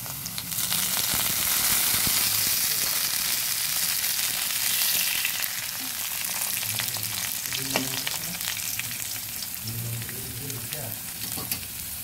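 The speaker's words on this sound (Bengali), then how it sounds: "আলুটা কিছুটা ভাজা হয়ে আসছে, এবার দিয়ে দেব পাঁচফোড়ন।" Potatoes sizzle steadily in a hot pan with oil as panch phoron spices are added, a continuous close frying hiss with occasional stirring scrapes and small crackles, no voices.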